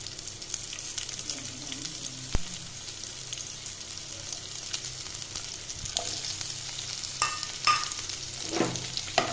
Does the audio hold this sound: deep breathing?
no